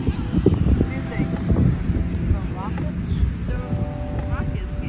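Gusty wind at a beach buffets the microphone with a rough roar, while people talk over it.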